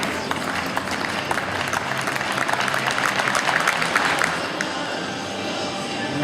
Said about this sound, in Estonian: vajab kindlasti rünne aplausi